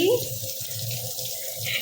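Water runs steadily from a tap over small crabs being washed, with a soft splashing hiss, a faint voice briefly audible at the start.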